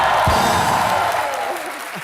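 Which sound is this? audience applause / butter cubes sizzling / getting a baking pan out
audience applause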